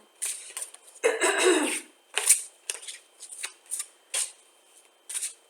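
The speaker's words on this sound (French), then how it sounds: "On va tirer une carte pour une carte ce qui va nous tomber" A deck of Flower of Life oracle cards is shuffled in short, close bursts of papery riffling separated by brief pauses, with light throat sounds in between.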